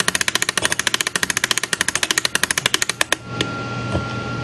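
A barrel mainspring being wound with a winder, heard as a rapid, even train of about thirty sharp ratcheting clicks close up, then stopping with a faint hum left behind.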